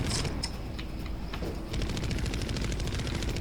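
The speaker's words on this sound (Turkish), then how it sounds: "Dur bakalım silah OP mi acaba? Böyle bir sağa sola sıkalım." Rapid automatic gunfire from a gun in the video game Road Redemption, a dense rattling burst sustained through most of the moment with sharp repeated cracks, loud and close, with no talk over it.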